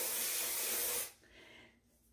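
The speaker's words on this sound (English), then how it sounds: "it has an aerosol, and let me put it on so you can see" A Garnier Fructis Volume aerosol hair spray can gives one steady, loud, close hiss lasting about a second, then it cuts off, leaving faint room noise.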